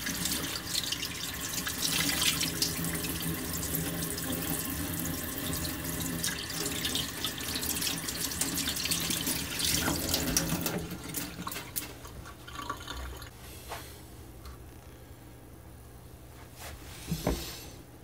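Hot water gushes from a tap into a sink in a steady, close, loud rush for about eleven seconds, then eases to a quieter trickle with scattered drips and a brief splash near the end.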